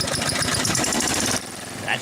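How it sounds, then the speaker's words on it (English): A Toro Z-Master 4000 zero-turn mower engine cranks and catches, giving a rapid loud pulsing rattle that drops to a lower running rumble, with a brief rise near the end. "That's the sound of a day starting out right, and I hear it every time my new Toro Z-Master 4000 Zero Turn starts up."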